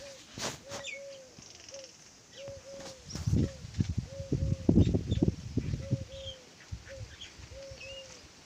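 A pigeon coos in a repeated, evenly spaced series of soft notes close by, joined by faint chirps from other birds and a louder burst of rustling and fluttering in the middle.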